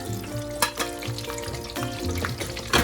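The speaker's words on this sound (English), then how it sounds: "when you're deep frying and you're frying with batter" Battered shrimp deep-fry in hot oil, giving a constant crackling sizzle with a few sharp pops and bursts of louder bubbling, close and alone with no talking.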